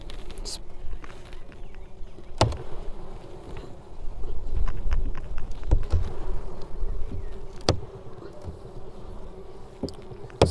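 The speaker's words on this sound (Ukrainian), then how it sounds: "Справді, поки що бджоли спокійні без диму." Low steady buzzing of many Carniolan honeybees close by in an open hive during a frame inspection, with occasional knocks and handling noises and a voice speaking Ukrainian over it.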